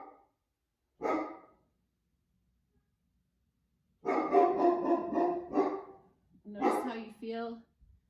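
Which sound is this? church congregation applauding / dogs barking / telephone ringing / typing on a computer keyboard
dogs barking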